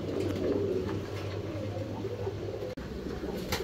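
Soft cooing from fancy pigeons at a pigeon farm in Natore murmurs under a low steady hum, faint and continuous, with a brief dropout near the end.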